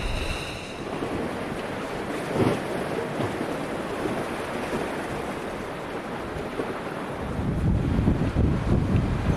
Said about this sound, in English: I'm in the most protected place on the island and I'm still copping wind